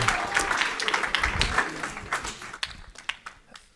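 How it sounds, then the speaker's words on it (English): Audience applause at the close of an evolution presentation during an afternoon conference session, a steady wash of clapping from a room of listeners that thins out toward the end. "let's have a round of applause for that evolution presentation"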